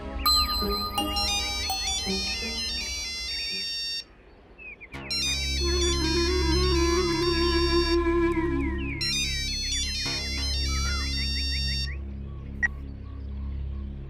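A melodic electronic phone ringtone plays repeatedly, bright chiming notes in looping phrases over a low hum, with a short pause partway through.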